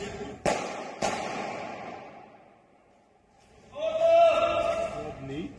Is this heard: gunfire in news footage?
yes